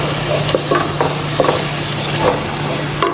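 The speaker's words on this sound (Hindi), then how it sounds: "हम इसको दही को अच्छे से इसमें डाल के पकाएंगे जब तक ये दही भी तेल ना छोड़ दे।" Curd cooking in hot oil for Kangra-style chickpea madra, a steady sizzle with a spoon scraping and stirring through it at irregular intervals over a low hum.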